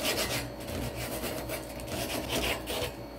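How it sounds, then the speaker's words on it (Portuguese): Sandpaper rasps back and forth over an iron vase to strip off rust, a continuous scratchy scrubbing with rhythmic strokes, close up and fairly loud. "Eu vou dar uma lixadinha para tirar esse ferrugemzinho"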